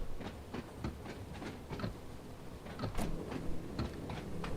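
Train rolling on rails toward Ryde Pier Head on the Isle of Wight in a train simulator game, a low rumble with rhythmic clacks and thumps, moderately quiet and steady.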